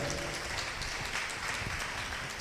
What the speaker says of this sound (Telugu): గట్టిగా చప్పట్లు కొట్టి గట్టిగా కొట్టాలి